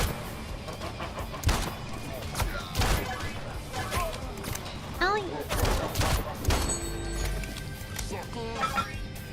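Rapid gunfire bursts and sharp shots from a multiplayer video game crackle in irregular clusters, loud and close, mixed with crashes and someone talking over the action.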